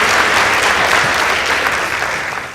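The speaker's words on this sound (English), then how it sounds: "Please give them a round of applause." An audience at a school debate competition applauds after results are announced, a dense burst of clapping from a crowd that holds steady then begins to fade.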